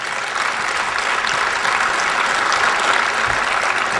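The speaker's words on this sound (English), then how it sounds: "Once again, that applause is more than I got on the Senate floor." Steady applause from a political audience at a speech about the EPA, a dense, even patter of many hands sustained throughout at moderate loudness with no voices over it.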